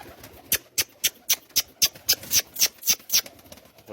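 Pigeons peck at a homemade digestive soil mix, giving a quick series of sharp, close tapping and pecking clicks in an irregular rhythm, with faint soft cooing in the background.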